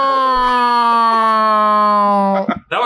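A person imitates a deer call with the voice, producing a long, steady wailing tone that sounds almost like an ambulance siren, loud and close, ending abruptly in a short breathy burst.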